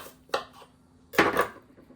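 Knife slicing through whole apples, cutting them in half on a board while making apple chips: two separate crisp cuts, each a sharp thunk and scrape, close and clear with quiet pauses between.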